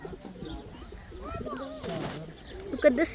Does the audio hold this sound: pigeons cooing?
yes